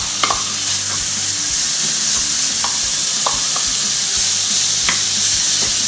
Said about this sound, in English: First thing we're going to do is dump our cut up bacon into our cast iron.